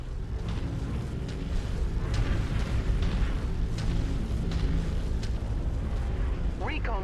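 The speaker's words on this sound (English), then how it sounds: "Incoming missile." Incoming missile explosions in the MechWarrior 5 video game with an Atlas AS7-RS mech, a dense sustained rumble of blasts and bursts over about seven seconds, loud and continuous, with a brief rising whine near the end.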